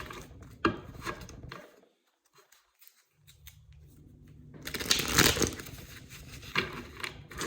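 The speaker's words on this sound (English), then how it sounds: "We're going to shuffle one more time." Tarot cards riffle and shuffle in quick, papery bursts, pausing briefly before a louder flurry of shuffling picks up again, close by.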